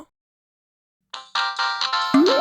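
A phone ringtone starts suddenly after silence, a bright, loud electronic melody of repeated tones with a rising sweep near the end.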